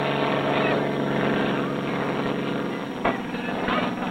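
A vintage aerobatic propeller plane's engine drones steadily through stunt maneuvers, a continuous loud roar with slight surges, while a narrator speaks over it.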